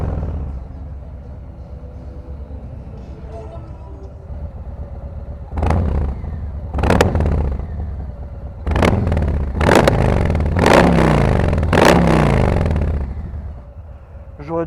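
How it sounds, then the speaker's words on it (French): A Harley-Davidson Fat Boy 114 motorcycle idles with a low rumble, then its engine is revved in a series of loud, sharp bursts close by. "Un gros moteur vient de démarrer,"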